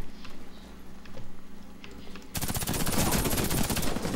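Rapid automatic fire from the Kriss Super V submachine gun in the online shooter Warface, a dense burst that starts abruptly partway through after quieter game ambience and continues loud to the end.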